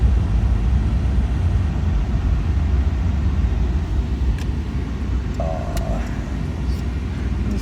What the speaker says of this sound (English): You kind of can hear the sound of the Magnaflow a little